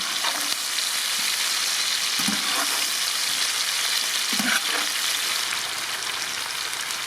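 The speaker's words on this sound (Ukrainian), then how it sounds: "Перемішую цибульку з печеревиною" Onion and mushrooms fry in a pan outdoors, a loud continuous crackling sizzle with occasional soft stirring scrapes, no voices.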